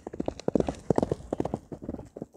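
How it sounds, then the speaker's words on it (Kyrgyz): A white-grey horse, an ulak (kok-boru) horse, approaches with its hooves clip-clopping in a quick, steady rhythm of distinct close thuds on hard ground. No voices are heard. "Ат учурда келатат, ак боз аттын келатканын көрүңүздөрчү"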